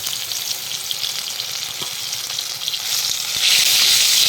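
Wet paste of cumin and ground coriander mixed with water hits hot oil while cooking a vegetarian potato curry, giving a steady close sizzle that grows louder and brighter near the end, with no talking.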